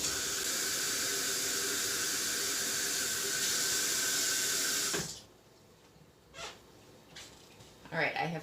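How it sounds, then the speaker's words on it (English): Tap water gushes loudly into a container holding pokeberries for dyeing, a dense steady rush for about five seconds that then cuts off, leaving faint handling noises and a few soft clinks. "Alright, I'm going to go fill this with water."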